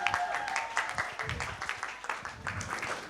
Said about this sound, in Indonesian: Tepuk tangan untuk Om Fajar.